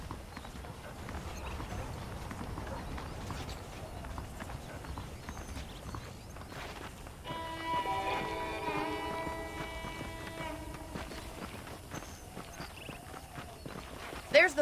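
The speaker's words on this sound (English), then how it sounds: "The horses are saddled up over here." Saddled horses in the video game Red Dead Redemption walk with a steady, even clip-clop of hooves that continues throughout over faint game ambience, with a brief brighter tone partway through.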